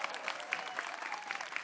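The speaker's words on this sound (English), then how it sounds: "round of applause" Applause from an audience at a TwitchCon EU Minecraft event stage, steady and fairly distant with scattered individual claps and cheers standing out.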